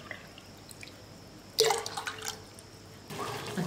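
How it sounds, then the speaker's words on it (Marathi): Six cups of water heat in a pot for sabudana papad and begin to boil. A quiet stretch gives way to sudden bursts of bubbling and liquid activity, first around the middle and again near the end. "आता पाणी उकळायला सुरुवात झाली आहे"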